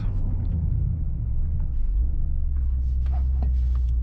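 Mercedes-AMG GT 63 S E Performance hybrid launching hard from a standstill on a straight road with a brief wheel spin, a steady deep engine rumble and road roar building close and loud throughout.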